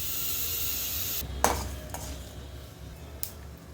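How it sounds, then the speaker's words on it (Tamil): Mustard seeds and urad dal temper in hot oil in a kadai with a loud, bright sizzle that cuts off suddenly, followed by a sharp metal clatter, softer crackling and another clink. "எண்ணெய் காஞ்சதுக்கப்புறம் இதில் கடுகு உளுந்தம்பருப்பு தாளிச்சிக்கிறேன்."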